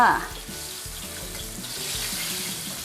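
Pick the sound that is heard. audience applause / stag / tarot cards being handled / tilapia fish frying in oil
tilapia fish frying in oil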